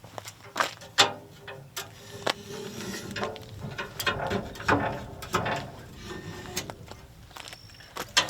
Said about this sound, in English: you just crank it on the tires. And it just has this ratchet system that really locks it down.